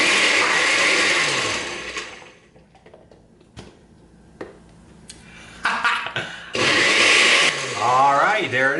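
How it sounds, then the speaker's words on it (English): Countertop blender whirring through a high performance shake, loud bursts of motor noise at the start and again near the end, broken by a quieter stretch in between. "I've got everything in my blender. Now I'm gonna give it the blend"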